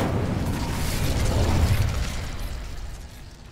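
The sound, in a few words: Incendio fire spell in video game Hogwarts Legacy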